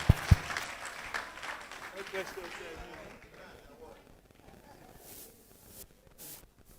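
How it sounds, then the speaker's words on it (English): Audience clapping in a meeting hall, scattered applause that starts fairly loud and thins out as it fades, with a couple of sharp knocks at the start and faint talk later. "I think you need to help me clap for her."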